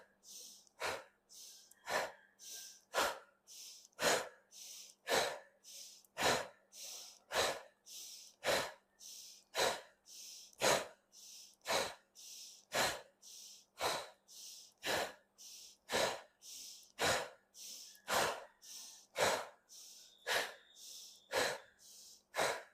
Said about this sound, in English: This is the Tumo breath